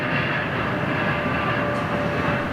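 A jet airliner rolling down the runway on takeoff, a loud, steady engine roar with a thin sustained whine, constant across the moment.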